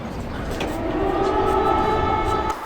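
Air raid siren wailing across a city of roughly 400,000 people near Kursk, a steady sustained tone with faint harmonics over continuous background rumble for the whole stretch.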